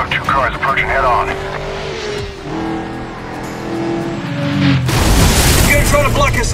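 Cars rushing head-on in a Medal of Honor: Warfighter chase level, engines roaring loudly with booming impacts mixed under game dialogue and music, swelling to a dense, loud burst near the end.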